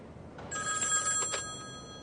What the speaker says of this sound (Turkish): telefon çalar bakın şuna be